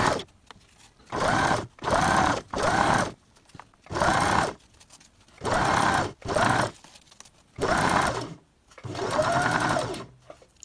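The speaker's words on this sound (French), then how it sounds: "Et je continue de piquer sur toute la longueur en venant plier avec mes doigts." A domestic sewing machine stitches a fabric drawstring bag in about eight short, loud whirring bursts separated by brief pauses, each run a rapid, even mechanical chatter, with the last burst running longest.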